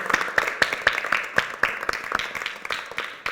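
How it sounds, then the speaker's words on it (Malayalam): A church congregation claps together in a quick, steady rhythm of sharp, roughly evenly spaced claps that ring through the hall, with faint crowd sound underneath. "പരിശുദ്ധാത്മാവിനെ ഓർത്ത് ഒരു ബിഗ് ക്ലാപ്പ് പരിശുദ്ധാത്മാവിനൊന്ന് കൊടുത്തേ"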